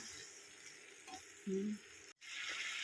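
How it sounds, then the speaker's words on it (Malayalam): Chopped lemon is stirred into lemon pickle masala in a pan, giving a soft sizzle with a spoon scraping, a brief tonal clunk and a short silent gap before the hiss resumes, close and fairly quiet. "നാരങ്ങ ഇട്ട് കൊടുത്ത് നല്ലപോലെ ഇതെല്ലാം കൂടെ നമുക്കൊന്ന് ഇളക്കി കൊടുക്കാം"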